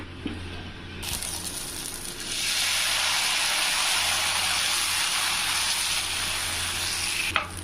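Dosa batter hits a hot griddle with a sudden, loud, steady sizzle that starts about a second in and keeps hissing close up, with a faint scrape near the end.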